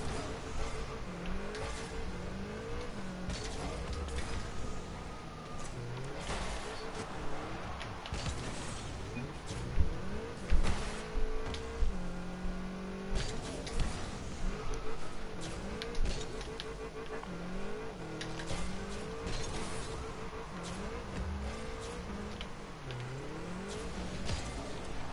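Rocket League game cars rev and accelerate in a ranked match, with rising and falling engine whines, boost bursts and impacts layered with game effects, steady and busy throughout, without talking.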